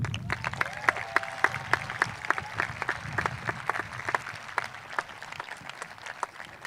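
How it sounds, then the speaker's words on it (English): Commencement audience for the Class of 2021 applauds the musicians and vocalists, a steady wash of claps with sharper individual hand claps standing out near the front, a low crowd murmur underneath, holding at moderate loudness throughout. "let's give a big round of applause to our musicians and our vocalists"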